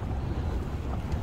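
A boat in gear moves forward through the water, giving a steady low engine-and-water rumble with wind over it, fairly quiet and unbroken, with no voices.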